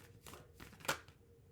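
A deck of cards is shuffled in a few quick riffling bursts, the last one sharpest, close and quiet against a hushed room, no speech.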